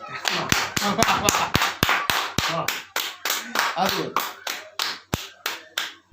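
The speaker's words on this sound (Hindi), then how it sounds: "तालियां अब उठनी चाहिए आपकी, तालियों का महोत्सव देखना चाहता हूं" Clapping at a Hindi humorous poetry recital: a run of sharp, distinct claps in a fairly steady rhythm, close and fairly loud, with a voice speaking between and over them.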